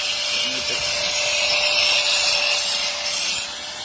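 An angle grinder grinding down welds on a metal ladder, a loud continuous high hiss and whine held steady throughout with a faint tonal hum beneath.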